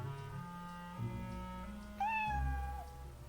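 A cat meows in a radio drama, a long rising and falling cry over a low hum, close and fairly loud, with a shorter mew just before it.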